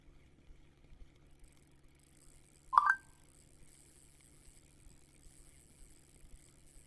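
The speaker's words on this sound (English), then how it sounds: "Cell phone noises." A single brief electronic cell phone tone sounds once, short and clear over a faint low background hum.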